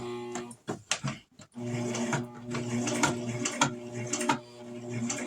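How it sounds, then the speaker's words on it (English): A sewing machine stitches along the edge of fabric for a coffee cup cozy, rapid mechanical whirring in short bursts with pauses and clicks between, close and fairly quiet, without talk. "We're going to sew this down right up against the edge of it."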